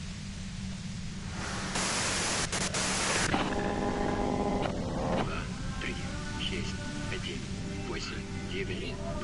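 Broadband white noise static, a loud hissing wash that swells into a harsher burst partway through, with faint tones and voices muffled beneath it.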